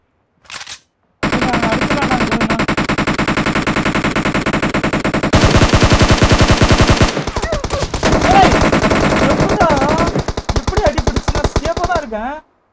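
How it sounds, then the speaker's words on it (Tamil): Rapid automatic gunfire from an UZI in a shooter game set among trees, long loud continuous bursts with brief breaks and bullet impacts, with excited voices talking over it. "மரத்தை தாண்டி புல்லட் வருதுடா"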